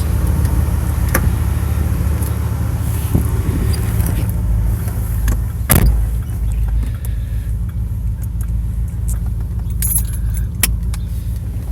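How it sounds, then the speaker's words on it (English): A 1992 Cadillac Seville STS with its Northstar V8 runs through a dual exhaust feeding a single muffler, a steady low rumble close by with scattered metallic clicks and jingles layered over it. "Dual exhaust. It is only a single muffler though."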